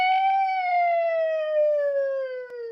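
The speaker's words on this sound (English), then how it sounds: "Sounds like a siren. It's a siren." A single siren tone with rich harmonics, steady and loud, slowly gliding downward in pitch over a few seconds.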